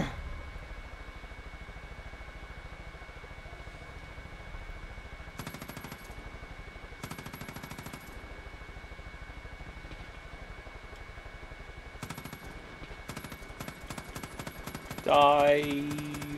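Gunfire in the video game Far Cry 5: faint bursts of rapid shots at intervals over a steady background hum, with a brief louder sound near the end.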